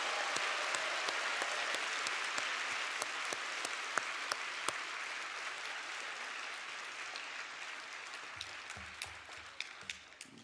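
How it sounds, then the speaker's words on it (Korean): A crowd applauds, a thick, even wash of many hands clapping that holds steady for about ten seconds and slowly thins toward the end. "박수, 박수."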